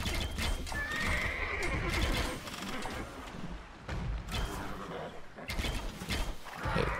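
Horses in the video game Age of Empires II, with repeated neighs and whinnies over busy clip-clopping hooves and battle noise, loud and close, with a voice faintly underneath.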